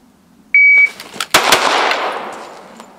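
Pistol fire during a timed concealed carry drill, starting with a shot timer beep and followed by two quick, loud shots with ringing decay and no talk.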